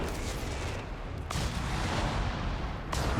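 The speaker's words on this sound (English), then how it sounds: "Using the creeping barrage here. First couple rockets off target" In Company of Heroes 3, a creeping barrage of artillery rockets rumbles in a heavy continuous roar of blasts, with sharper impacts punching through at a couple of moments.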